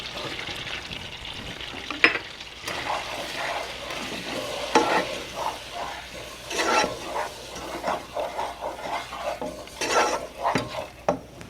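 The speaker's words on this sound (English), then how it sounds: "I'm going to stir that for about a minute to cook it" A butter and flour roux stirred in a small saucepan, the spoon making repeated scraping and swishing strokes in an uneven rhythm over a soft sizzle, close up, with no voices.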